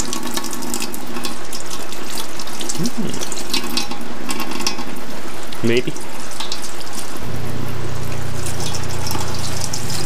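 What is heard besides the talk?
hot water running from tap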